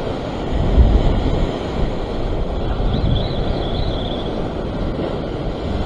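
Steady roar of ocean surf rolling in, loud and broad, with wind rushing across the microphone, on the coast at Kurnell, Sydney, Australia.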